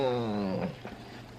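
A cat lets out a single drawn-out, wavering cry close by that falls in pitch and fades into faint background noise.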